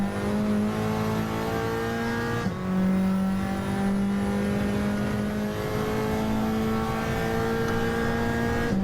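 Race car engines in a racing video game on the Dragon Trail Gardens circuit, several cars bunched together, a loud continuous multi-toned engine drone with pitch shifts as the cars brake and accelerate, no talk.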